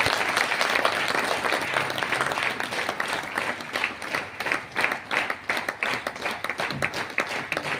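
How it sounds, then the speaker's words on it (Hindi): Dense audience applause for a speaker at a stage event, steady and loud throughout with rapid overlapping claps and no break. "जोरदार तालियां सर के लिए"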